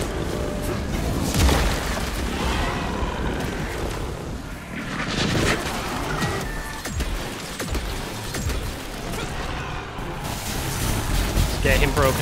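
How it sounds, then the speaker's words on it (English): Grenades go off in the video game Evil West, with booming blasts and gunfire-like bursts. They land among dense, loud game action, under continuous talk throughout. "Boom. Grenades. Activate."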